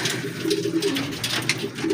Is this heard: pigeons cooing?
yes